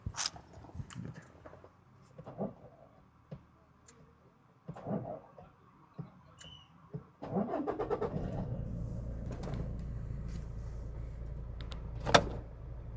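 A car engine cranks and starts after someone searches for the start button, then settles into a steady close idle, with door and interior clunks and brief speech-like sounds early on.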